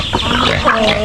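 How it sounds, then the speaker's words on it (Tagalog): Pigs on a farm grunt and squeal loudly and close up in a brief, continuous burst of noisy animal calls. "Ito naman po sa baboy."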